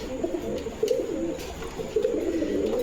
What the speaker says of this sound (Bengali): এটা মুখী কবুতর। এই যে নর ডাকতাছে